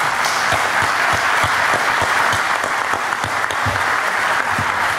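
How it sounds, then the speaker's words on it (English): An audience at a candidates forum applauds with steady, dense clapping from many hands that carries on throughout, with no speech over it. "you can give everybody a rounding clap"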